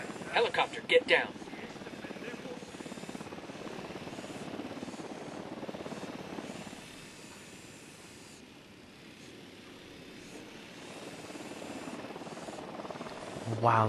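Helicopter in the video game Ghost Recon Wildlands, a steady rotor and engine drone holding throughout, dipping slightly midway, with a voice talking over it and a few sharp game effects near the start.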